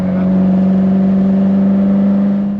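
Ferrari 308 engine runs at a steady idle, a close, loud, even hum with a strong low drone and no change in pitch.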